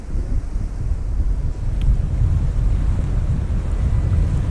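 Strong easterly wind buffeting the microphone on Gorleston pier by the river mouth, a loud, constant low roar with rumbling gusts and no voices.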